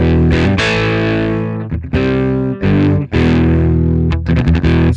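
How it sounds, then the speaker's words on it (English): Electric guitar played through an overdriven amp channel, gritty sustained chords and notes with short breaks between phrases, loud and close with no voices. "it's an overdriven channel now, so it sounds like this"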